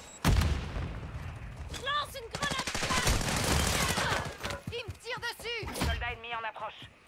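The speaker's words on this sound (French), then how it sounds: "Il me tire dessus." Dense automatic gunfire and bursts of shots in a combat video game, rapid and loud, with chirping voices and game sounds mixed in and speech over the top.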